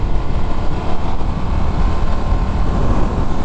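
Steady low engine drone from a 2022 Indian FTR S motorcycle running an Akrapovic 2-into-1-into-2 full exhaust while riding, blended with constant wind noise at an even level throughout, with nobody speaking.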